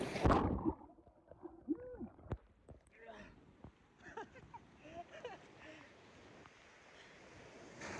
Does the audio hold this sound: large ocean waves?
yes